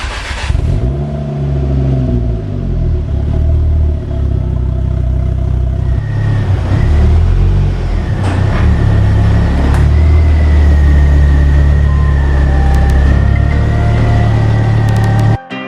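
A Ford Focus RS Mk2, just rebuilt, pulls away on its first road test, its engine droning steadily and loud throughout, rising as it revs and accelerates, with a few clatters and knocks from the car along the way.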